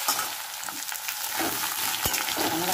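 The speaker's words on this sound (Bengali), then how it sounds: "অল্প করে আলুগুলো ভেজেছি" Potatoes fry in a pan for a katla fish curry with potol, a loud dense sizzle with crackling spatter and a sharp utensil scrape or tap partway through, no one talking.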